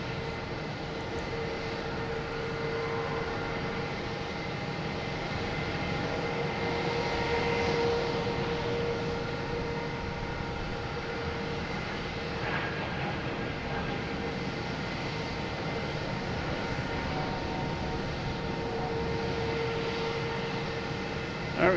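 A JetBlue Airbus A220 taking off at Boston Logan airport, heard as a faint, steady distant jet roar that holds evenly throughout without distinct peaks.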